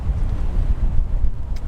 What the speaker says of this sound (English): Now it's really windy, so wind test.